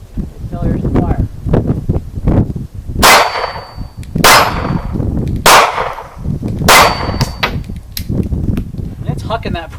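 A Kel-Tec P3AT pistol fires at the range: five sharp, cracking shots spaced about a second apart, loud and close, with voices murmuring between them.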